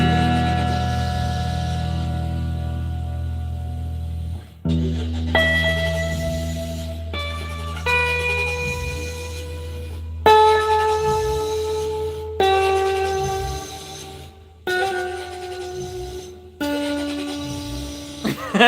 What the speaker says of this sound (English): It's doing a new engine sound every time I play a note.